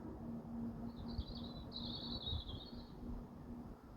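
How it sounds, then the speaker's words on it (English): A bird, likely a European robin or blackbird, sings at night at 10 pm, a faint, distant warbling phrase over a quiet background with a low steady hum. "Yep, that's quite loud, that blackbird."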